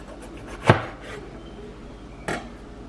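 A knife chops through a pepper on a cutting board while enchiladas are prepared, giving two sharp, separate knocks about a second and a half apart, close and clear against a quiet kitchen.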